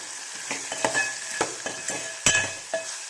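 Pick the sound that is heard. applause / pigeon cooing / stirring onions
stirring onions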